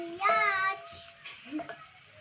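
Pork wet-frying in a pan while being stirred, giving a faint sizzle and soft scraping taps beneath a nearby voice.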